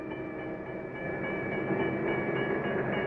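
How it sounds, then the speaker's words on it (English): A Santa Fe Railway freight train rolls steadily along the tracks with a continuous loud rumble and rail noise that swells slightly toward the end, heard alone without voices. "Soon, the freight train arrives at its first stop"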